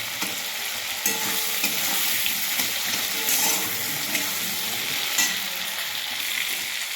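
Potatoes frying in oil with salt and turmeric, a steady bright sizzle that holds evenly throughout with a few soft stirring knocks, close and fairly quiet, no voices.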